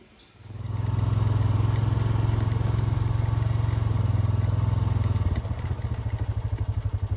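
Four-wheeler ATV loaded with gear for readying deer stands before whitetail season, its engine revving up from idle into a loud, steady, close drone, then settling into a pulsing rhythmic chug as it drives off.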